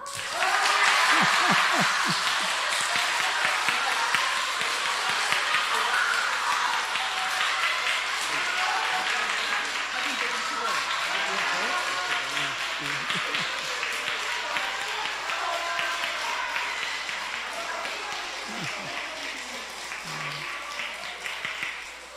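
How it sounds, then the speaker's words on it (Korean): A revival meeting audience claps loudly and continuously for a long stretch, a thick, even roar of hands with scattered voices and shouts mixed in throughout. "옆에 사람하고 15초 동안 큰 소리로 박수 치면서 시작"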